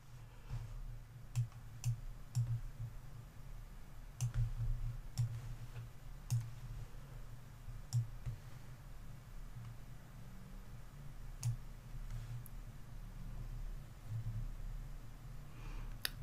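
Sparse, faint computer mouse clicks while working in an Excel spreadsheet, single sharp ticks spaced a second or two apart over a low steady hum, with no talking.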